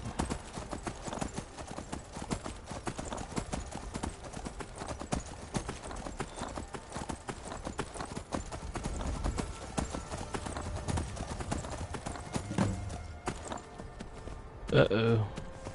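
Rhythmic clip-clop of horse hooves trotting steadily throughout in the video game Skyrim Special Edition, fairly faint, with a short neigh near the end.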